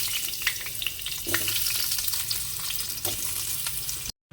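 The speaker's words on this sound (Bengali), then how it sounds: "আগে আলুগুলো একটু ভাজতে দিয়েছি" Potatoes fry in hot oil in a kadai, a steady close sizzle and crackle that runs unbroken for a few seconds before cutting off abruptly.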